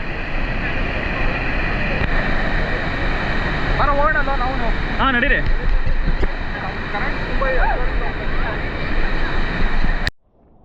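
Rushing water at Balamuri Falls roars as a constant broadband wash with wind buffeting the microphone, while people talk briefly over it before it cuts off abruptly.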